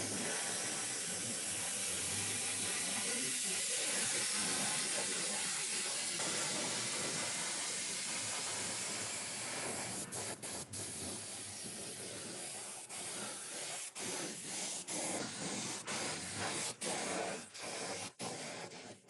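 A spray gun applies patina paint to a rat rod, a loud steady hiss at first, then broken into short irregular bursts and clicks as the trigger is pulsed; no talking.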